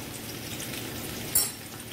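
Onions frying in hot oil for a fish salan, a steady soft sizzle throughout with a brief brighter crackle near the middle, no voices.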